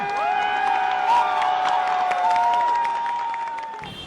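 A crowd of supporters cheers and whoops steadily at a farewell speech after a political resignation, a dense continuous roar with rising shouts and whistles that fades slightly at the end.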